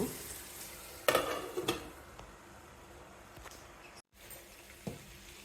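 Raw banana slices fry in oil in a pan, a continuous soft sizzle broken by a few sharp stirring scrapes and a lid-like clunk, close and quiet.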